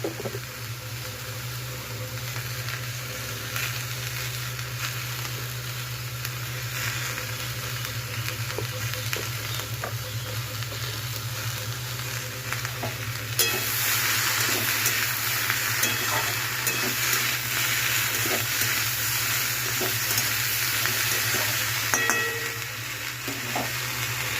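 Frying in a pan with salt and turmeric, a continuous close sizzle with scraping stirs and utensil clatter that grows louder and brighter about halfway through, with no talk.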